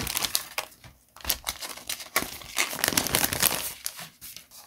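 Crinkly plastic packaging of a model kit decal pack is handled up close, giving loud, irregular crackles and rustles in quick bursts with brief pauses between them.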